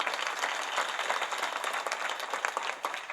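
Applause from a crowd at a Marathi devotional kirtan gathering, a broad, even wash of many hands clapping at moderate distance, continuous from start to finish.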